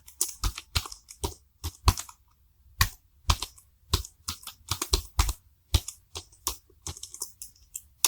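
Someone types code on a computer keyboard in short irregular bursts of crisp, close key clicks with brief pauses between, no talking.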